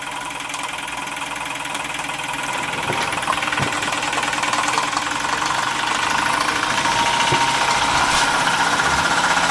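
A Stirlingkit Retrol SE-03 model steam engine runs steadily, driving a generator and light, with a rapid mechanical chatter and hiss, continuous and fairly loud throughout, with no talking.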